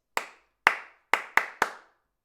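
Five sharp hand claps beat out a rhythm for a clapping game: two spaced claps, then three quicker ones, each crisp and close, with no talking.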